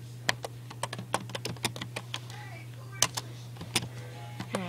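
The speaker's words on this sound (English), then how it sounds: "I have to type in slash game mode." Crisp keystrokes on a computer keyboard as a game command is typed, a dozen or so quick clicks in uneven bursts, close and fairly quiet over a steady low electrical hum.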